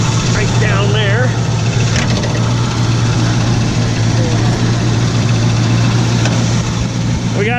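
The original 350 V8 in a 1975 Chevrolet Camaro LT 4-speed idles steadily with a deep, even hum, hood open, while someone talks over it.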